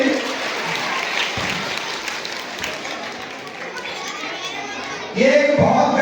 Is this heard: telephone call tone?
no